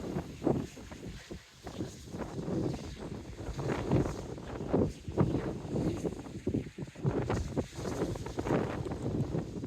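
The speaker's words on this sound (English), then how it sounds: "That's better, wind behind me now." Gusty wind buffets the microphone outdoors at a carnival, roaring and fluctuating steadily throughout with no talk.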